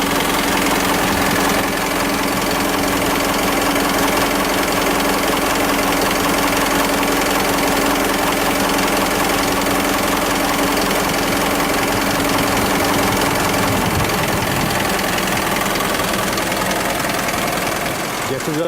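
An Isuzu Elf truck's 4JJ1 2990 cc, 150 hp turbo diesel idles steadily and loudly close by, with a dense, rattly clatter and a faint whine. The sound stays constant throughout.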